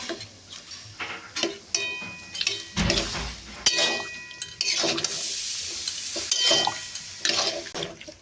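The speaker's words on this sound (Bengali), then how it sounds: "আলুগুলো একটু ঘেটে দিই।" Potatoes are stirred and mashed in a pot of oil-free ghugni made with kabuli chickpeas and matar dal. A spoon scrapes and taps in an irregular rhythm, with soft squelching, fairly quiet and close.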